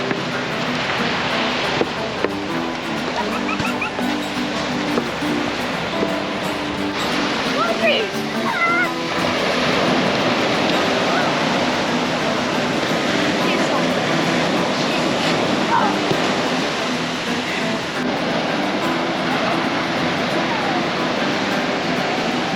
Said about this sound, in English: We're here at the beach, the last day here at Kitty Hawk, North Carolina.